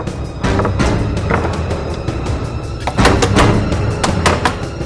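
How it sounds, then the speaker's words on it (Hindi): Someone bangs on and forces a door in a tense indoor setting, with a series of heavy thuds and rattling knocks of varying strength, loud and close over a noisy background. "तो दरवाजा तोड़ देना है मुझे।"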